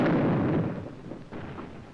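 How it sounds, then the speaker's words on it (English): A single heavy WWII artillery blast from the battle for San Pietro, Italy, in December 1943 booms loudly up close, then rumbles away over about a second. "Our own artillery was brought to fall within 100 yards of our front-line elements."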